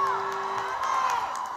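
An audience at a live radio concert in San Luis Potosí whoops and cheers for the band, with shouts and a little clapping under a whistling feedback tone, all at close range.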